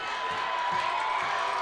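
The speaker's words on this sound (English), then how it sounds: "And the crowd's feeling it." Crowd cheering at a high school lacrosse conference championship game, a steady broad roar of voices with whoops, continuous and moderately loud throughout.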